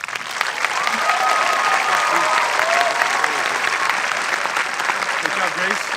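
At a 2018 Kinkaid School graduation ceremony, a large crowd applauds steadily and loudly for several seconds, a dense, even wash of clapping with faint voices mixed in.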